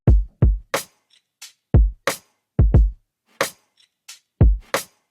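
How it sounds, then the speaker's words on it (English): Punchy modern kick drum layered into a boom bap beat, thumping repeatedly in a loose, swung pattern with brighter snappy hits falling between the low booms, loud and close with no voices. "This kick drum is a little bit more modern, but punchy"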